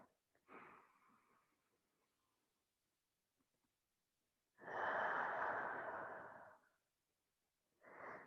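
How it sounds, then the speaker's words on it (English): Deep full breaths during a stretching exercise, a short inhale followed after a pause by a long, strong exhale lasting about two seconds and another breath starting at the end, close and clear with no talk. "let's all take one more full breath"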